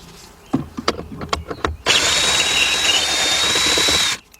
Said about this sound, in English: get you a cordless drill